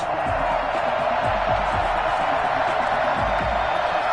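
Dense, steady roar of a stadium crowd in a Madden football video game before a Buffalo Bills versus Baltimore Ravens matchup, loud and continuous with a few scattered thumps beneath.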